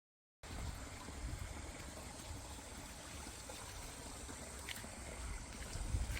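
Water runs through a dug drainage channel behind a farm hut near a reservoir, a soft continuous trickling and burbling like a small stream, steady and fairly faint.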